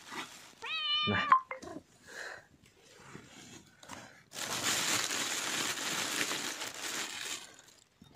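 A cat gives a clear, rising meow near the start, close and loud, followed by brief rustling and scuffling noises and then a long stretch of broad crinkling or crushing noise, with no speech.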